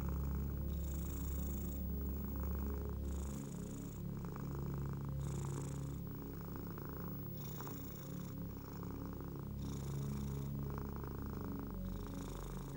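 A cat purrs steadily and close up, a continuous low rumbling drone with a gentle in-and-out rhythm of breaths, heard alone without any voices.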